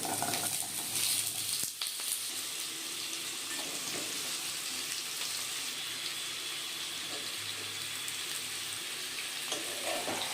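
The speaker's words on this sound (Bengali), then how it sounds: "আলু কুমড়োটাকে এবারে নেড়েচেড়ে নিয়ে মিশিয়ে নেব।" Potato and pumpkin pieces fry with spices in a pan over a medium flame, a steady close sizzle broken by occasional stirring scrapes and clinks.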